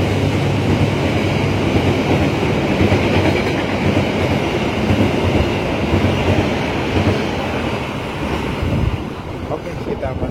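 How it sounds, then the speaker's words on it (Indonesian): The Mutiara Selatan train runs straight through Solo Jebres station without stopping, a loud continuous rumble and rattle of wheels and carriages with rhythmic clatter that holds steady for ten seconds, a voice faintly audible beneath. "Kereta api Mutiara Selatan melintas langsung stasiun Solo Jebres"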